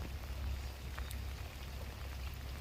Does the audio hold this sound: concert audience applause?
no